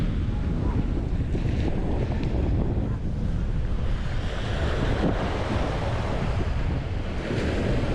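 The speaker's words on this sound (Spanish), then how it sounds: "Y aquí estoy con vosotros compartiendo este oleaje, que siempre va bien escucharlo." Ocean waves break continuously on a beach at Playa del Carmen's Pelícanos beach, a dense roaring surf wash mixed with gusty wind buffeting the microphone, loud and steady throughout.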